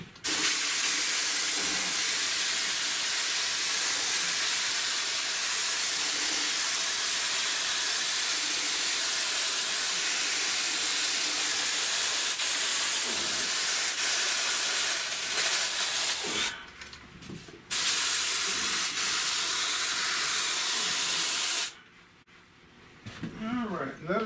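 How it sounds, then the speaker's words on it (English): A long continuous hiss of spray adhesive on car headliner material, close and steady, broken by two brief pauses before it resumes. "And you want to spray both sides of your material."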